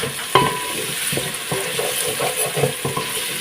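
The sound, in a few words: onions and ginger garlic paste frying and being stirred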